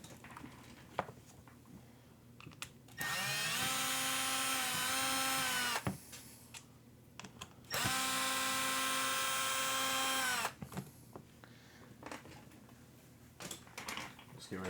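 A power drill runs in two sustained bursts of about three seconds each, removing screws from a Traxxas Sledge 1/8-scale RC truggy. Each burst has a steady whine that drops in pitch at its end, with quiet handling noises between them.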